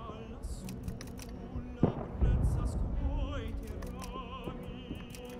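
Mauser pistol shots in the World War I video game Isonzo ring out as a few sharp reports, with one loud crack near the middle, over game ambience and scattered clicks.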